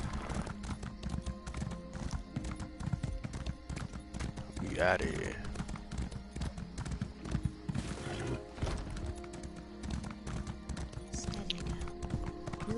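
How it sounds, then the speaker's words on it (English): Horse hooves clip-clop steadily in The Elder Scrolls Online video game while someone talks over the steps, with a brief whinny near the middle of the ride. "Get on my trusty horse."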